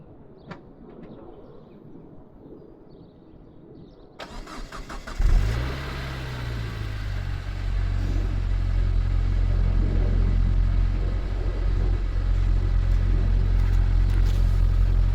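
A Saab 9-5 2.3 Aero with its sound deadening missing from the bonnet cranks briefly, fires up and settles into a steady, deep idle rumble that grows slightly louder, close by with no talking.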